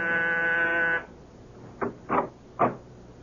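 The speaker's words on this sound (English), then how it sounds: "And I was just about to leave when my door buzzer sounded." A harsh, buzzing electric apartment door buzzer in a radio drama sounds for about a second, followed by quiet and three soft knocks or thumps.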